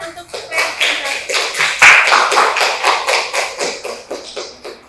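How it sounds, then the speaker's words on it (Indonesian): Crowd of students and teachers clapping steadily for a group presentation in a classroom, dense rhythmic hand claps from several people close by, continuing for about five seconds with no talking. "Kasih tepuk tangan untuk presentasi."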